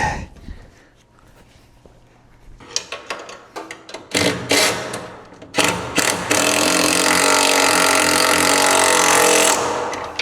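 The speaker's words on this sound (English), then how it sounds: "Now I also have these ones to tighten in the back of the seat." Bolts on the back of a race car seat are tightened, first with scattered clicks and knocks, then a loud, close power tool whirring steadily for several seconds.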